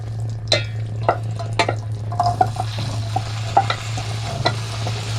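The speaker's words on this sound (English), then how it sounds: "my oil and butter is warmed through there now, and we're going to add the potatoes" Potatoes frying in a hot pan with oil and butter, a close crackling sizzle punctuated by scraping and stirring clicks of a utensil against the pan.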